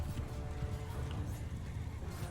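Horse archers' mounts gallop in a game battle, a low rumbling drum of hooves under busy fighting noise, faint and fairly distant, with no speech.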